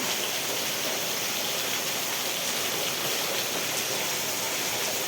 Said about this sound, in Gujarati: આવો નાવો કેટલો વરસાદ પડે જોવો તો ખરા